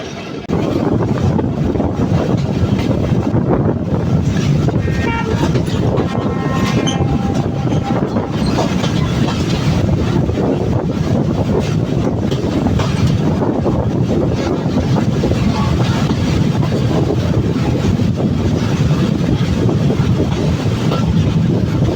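The Nakshikantha Commuter train rolls along the rails after leaving Khankhanapur station, a loud, steady rumble with rhythmic clatter and occasional wheel squeal sustained throughout, without speech.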